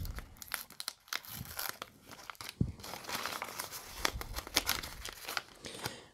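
Advent calendar package being unwrapped, with paper crinkling and tearing in dense, continuous rustling bursts close up for several seconds.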